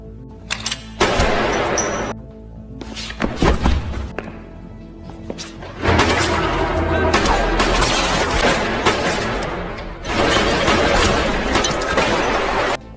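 A fierce gunfight in a gangster film, with bursts of loud shots, crashing impacts and shattering debris in dense clustered volleys, pausing briefly before heavier rapid firing resumes.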